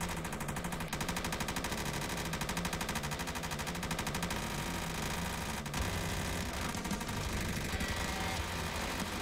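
Sustained rapid gunfire fills a VRChat game session, dense bursts of shots layered with a low engine-like rumble running steadily and loudly throughout, with no pauses.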